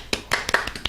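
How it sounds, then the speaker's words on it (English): A small round of hand clapping, about six quick claps in under a second, close and dry. "I'll give it a small Trump round of applause."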